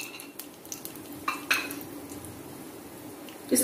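Whole spices, cinnamon sticks, cloves and cardamom, with bay leaves frying in hot oil in a pan, a soft steady sizzle with a few light clinks of a utensil and a brief stir near the end.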